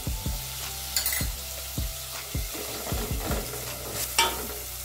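Tomatoes and a spoonful of tomato paste sizzle and fry in a pan for a mushroom dish, with repeated scraping stirs at a steady rhythm over a constant low sizzle, close by and with no talking.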